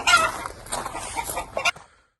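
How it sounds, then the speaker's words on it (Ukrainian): Chickens cluck softly and busily nearby while eating feed, a short burst of close fowl chatter with small pecking sounds, then it falls quiet. "Наші кури покормлені їдять."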